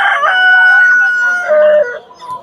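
A rooster crows at a bird market in Margilan, a long drawn call that fills the whole moment, loud and close, with other fowl sounds around it.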